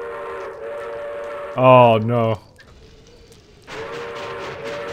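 A train passes in the video game They Hunger: a steady, droning tone joined by a sharp, loud whistle blast midway, with a brief spoken remark over the rumble.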